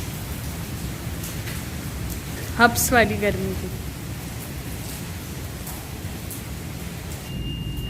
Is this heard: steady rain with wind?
yes